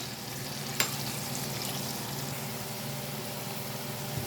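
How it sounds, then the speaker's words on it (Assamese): Potato pieces fry in hot oil in a steady, close sizzle that holds evenly throughout, with one brief sharp tap of a utensil early on and no talking. "আলু কেইটুকুৰ ভালদৰে নমচুৱাকৈ ভাজ খোৱালৈকে ভাজি থাকিম।"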